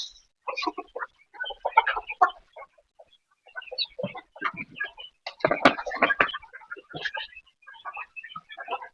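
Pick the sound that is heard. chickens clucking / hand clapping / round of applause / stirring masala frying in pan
chickens clucking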